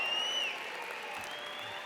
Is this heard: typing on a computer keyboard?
no